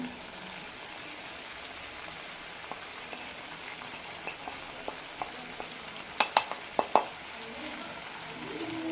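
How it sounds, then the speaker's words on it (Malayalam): Sliced onions sauté with partly cooked chicken in a pan, giving a quiet, steady sizzle with occasional spoon taps and a cluster of sharper scraping clicks from stirring near the end. "ഇനി ഇതിലേക്ക് സവാള വഴിച്ചത് കൂടി ഇടാം സവാള ഈ രീതിയിൽ വഴറ്റിയെടുക്കണം"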